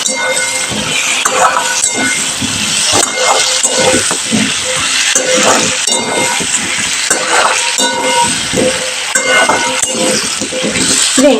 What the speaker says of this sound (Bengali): এবার আমি ভালো করে কুমড়োটাকে ভেজে নেব